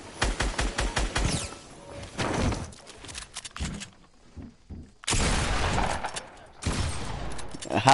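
Rapid bursts of automatic gunfire from an online shooter game, a fast rattling volley up front followed by scattered shots, pauses and two more loud sustained bursts, with occasional talk among the players.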